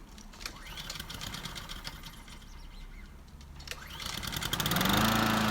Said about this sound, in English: pull the cord to start, then give it normal revs and off we go